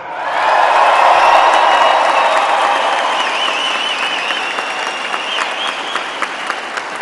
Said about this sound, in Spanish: un aplauso muy fuerte para las compañeras y compañeros de este estado trabajador